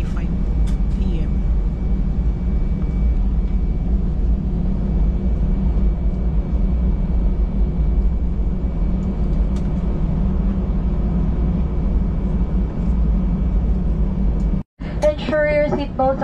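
Deep, continuous cabin rumble fills a Philippine Airlines airplane as it rolls for takeoff, the low engine drone holding steady throughout, with a brief cut near the end.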